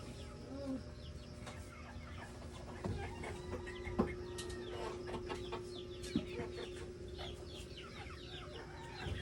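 Chickens and roosters on a rural Philippine farm, clucking and chattering steadily over low background noise, with scattered brief calls and a few sharper clucks standing out.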